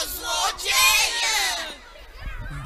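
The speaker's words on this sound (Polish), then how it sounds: "Biega ludzi tłum i pcha się." A crowd of townspeople running and pushing through a city street, a burst of overlapping shouts and yells that swells loudly, then thins out into scattered calls.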